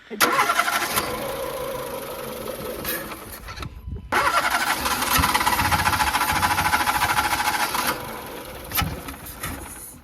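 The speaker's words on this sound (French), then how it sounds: "est-ce qu'elle démarre avec 2 cylindres?" A Renault Clio engine running with two cylinders removed cranks and catches roughly, then stumbles and cuts out briefly before restarting into an uneven, knocking idle, loud and close.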